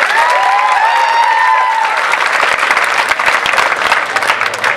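Loud, close crowd applause rolls continuously throughout, with thick clapping that stays strong from start to finish.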